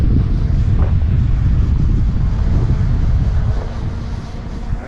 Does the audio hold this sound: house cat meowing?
no